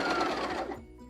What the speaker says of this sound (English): do a front and back stitch just to seal that in